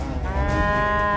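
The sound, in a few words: water buffalo mooing, calf fallen into roadside drain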